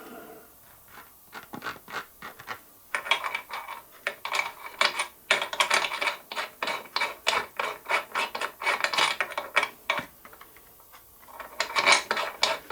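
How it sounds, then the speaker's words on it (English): A metal part is threaded for a 16mm bolt with repeated rasping scrapes in a steady back-and-forth rhythm, close and moderately loud, pausing briefly before resuming. "we can hopefully put some threads into this part."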